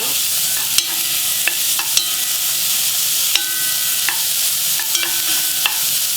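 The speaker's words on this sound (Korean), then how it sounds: "여기에 작은 마늘 조금 먼저 맛있게 넣고 볶아주다 물 부을 거예요" Garlic and beef stir-fried in a pot with a little cooking oil for a beef and bean sprout hangover soup, giving a steady close sizzle broken by sharp utensil scrapes and clanks against the pot.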